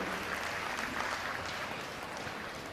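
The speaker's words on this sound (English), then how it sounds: "Let's have a round of applause for all of our senior showmen." Crowd applause at a county youth fair and livestock show honoring senior showmen, a fairly quiet, even wash of clapping from a distant audience that tapers slightly toward the end.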